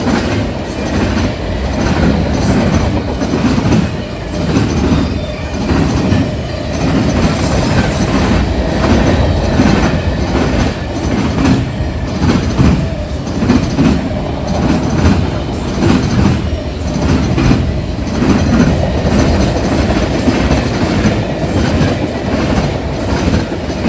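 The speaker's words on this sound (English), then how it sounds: "run for the company were a pair of Norfolk Southern's America 250th units, specifically the Lady Liberty and the Freedom" A Norfolk Southern train hauled by a pair of America 250th heritage diesel locomotives rolls past in central Ohio, a loud steady rumble with rhythmic clickety-clack of wheels over rail joints throughout.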